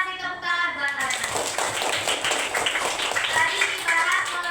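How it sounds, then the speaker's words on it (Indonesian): Classmates in a classroom clap for a student, a short burst of many small hands rattling together over steady background chatter and children's voices. "Kita kasih tepuk tangan buat Alena."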